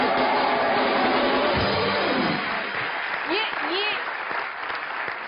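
Studio audience at a comedy talk show applauding Shilpa Shetty, a loud, sustained wash of clapping from a large crowd, with a voice and a few whoops rising over it toward the end.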